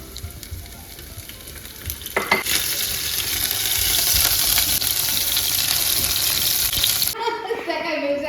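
Chopped ginger and green chilies hit a hot pan for brinjal curry, a quiet hiss swelling into a loud, sustained sizzle after a couple of seconds, then cutting off abruptly near the end.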